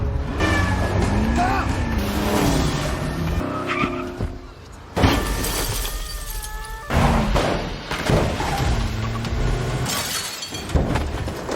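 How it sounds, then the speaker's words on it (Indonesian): A powerful car rams through the cars ahead in a movie chase, with repeated crashes, shattering glass, skidding tires and roaring engines in loud bursts, while voices talk over the action. "Rizky yang menggunakan mobil super kuat buatan Linu terus menabrak mobil-mobil yang ada di depan yang menghalanginya"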